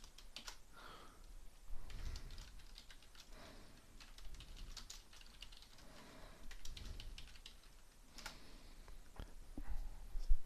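Quiet, close typing on a computer keyboard, bursts of rapid light clicks with short pauses between them and an occasional louder keystroke, no talking.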